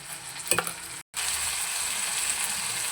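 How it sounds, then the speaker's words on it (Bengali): A paste of tomato and green chilli fries in a pan and is stirred, giving a steady close sizzle with scraping stir sounds and a brief cutoff early on. "টমেটো আর কাঁচা লঙ্কা একসঙ্গে পেস্ট করেছিলাম, সেটা দিয়ে নাড়াচাড়া করলাম।"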